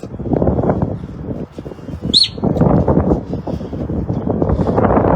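Gusty wind buffets the microphone in loud rushing waves, and a single bird chirps briefly in the middle.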